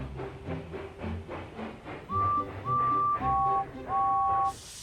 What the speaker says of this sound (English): They were very surprised to hear Thomas whistle